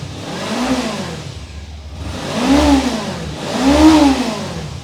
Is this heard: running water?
no